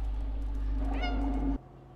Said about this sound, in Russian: Тебе не надоело мяукать?